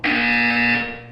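A steady electronic buzzer from the video game Portal 2 sounds once, loud and continuous for about a second with a rich harmonic tone, then fades slightly at the end, with no talking.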